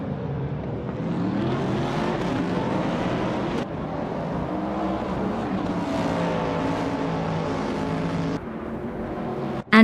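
A 1978 Greenwood Corvette GTX race car engine in a racing video game, droning steadily and loud with a continuous high-revving tone and subtle pitch shifts, alone without talk.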